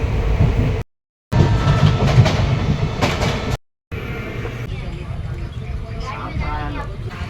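Inside a moving passenger train from Secunderabad toward Wanaparthy, a loud steady rumble and rattle of the carriage on the rails with two brief dropouts, while people talk over it.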